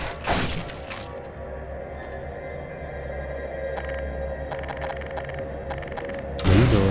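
An in-game explosion in Half-Life 2: Lost Coast: a sharp blast at the start, then a low rumbling hum with scattered debris clatter, and another heavy burst of noise right at the end.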